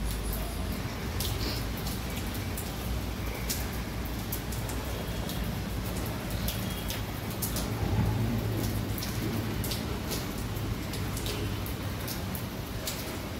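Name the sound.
rain falling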